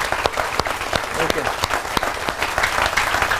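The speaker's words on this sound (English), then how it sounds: "let's welcome them with a huge round of applause" A business opportunity meeting crowd claps more loudly to welcome first-time guests, a dense, vigorous round of applause with sharp individual claps standing out, joined briefly by a voice calling out over it.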